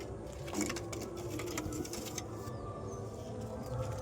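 Pigeons cooing in a loft, low soft coos and rustling close by over a constant background hum, with faint bird calls in the mix.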